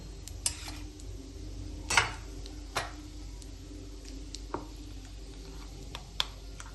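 Mustard seeds, cumin and asafoetida tempering in hot oil in a kadhai for chole gravy, a quiet sizzle broken by scattered sharp pops and crackles.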